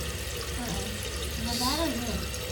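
Water runs steadily into a toilet tank refilling after a fill valve change, a constant close hiss and trickle with faint voices talking over it.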